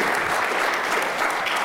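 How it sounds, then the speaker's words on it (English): Conference audience applauding, a steady dense wash of clapping from a large crowd filling the whole short stretch without a break. "why don't we give them a round of applause"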